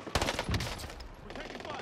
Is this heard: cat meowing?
no